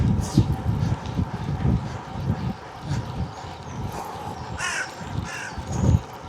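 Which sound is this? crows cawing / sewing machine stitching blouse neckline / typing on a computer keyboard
crows cawing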